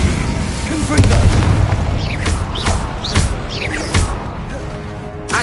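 Confringo fire-blast spell from Hogwarts Legacy, heard as a series of sharp booming bursts and crackling explosions in quick succession, loud and busy throughout.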